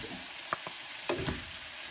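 Pre-fried tofu frying in a pan with vegetables for a vegetable tofu roll (lumpiang gulay), with a steady quiet sizzle and a few soft clinks and scrapes of stirring, no voices.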